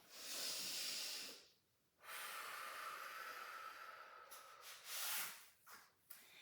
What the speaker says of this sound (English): Let's take one more nice deep inhale